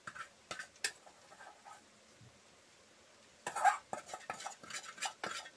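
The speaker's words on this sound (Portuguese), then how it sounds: "Vou refogando." Greens are stirred and sautéed in a pan, with scattered scraping and clinking utensil strokes, sparse at first and then a busier burst of close stirring, quiet overall with no talk.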